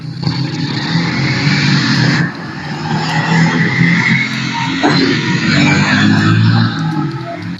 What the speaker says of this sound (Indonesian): ini suara ada motor?